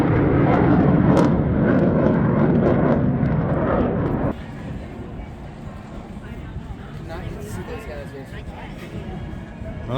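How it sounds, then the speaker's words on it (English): Jet aircraft of the French Patrouille de France and the Blue Angels fly stunts at an air show; a loud, broad roar fills the first four seconds, then drops to a steadier, quieter rumble, with voices faintly underneath. "watching all those planes do acrobatics"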